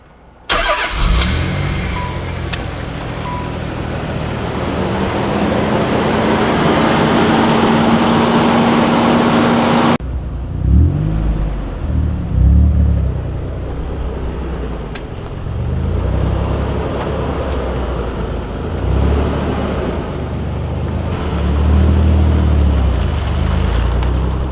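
A Honda car with a B17 engine and a new, larger exhaust idles, then is driven around a parking lot, the engine revving up in repeated rising and falling surges, loud and close throughout, with no talking.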